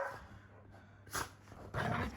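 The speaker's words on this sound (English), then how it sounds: "You're a noisy dog." A pet dog plays noisily after dinner, with soft yips and scuffling building into louder bursts near the end, quiet and close with no talk.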